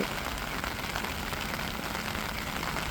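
Heavy rain pours down in a constant, dense patter on surfaces, loud and unbroken.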